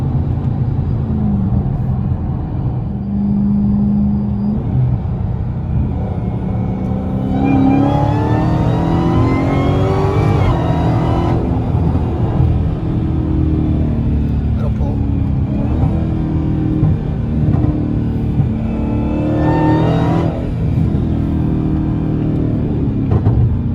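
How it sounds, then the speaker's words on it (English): Supercharged Ford Mustang GT350 engine revving hard through third gear, rising and falling roars with crackling backfires, loud and close, with someone talking over it. "That was just a little third gear. Little backfires."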